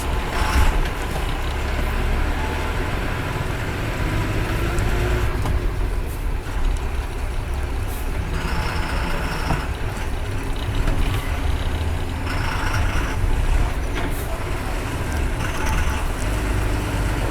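An ultra deluxe bus bound for Vijayawada pulls away, a continuous heavy engine rumble with mechanical rattles and clanks running close and loud throughout, without voices.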